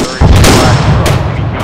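Heavy weapon fire in ArmA 3 co-op play, with an enemy BTR armored vehicle nearby: a loud, sustained booming roar with sharp cracks at the start and near the end, filling the whole short stretch.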